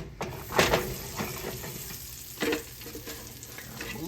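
Carrots stirred in hot butter in a pan for orange honey glazed carrots, a continuous sizzle with two louder scraping pushes of the utensil, near and uninterrupted by speech.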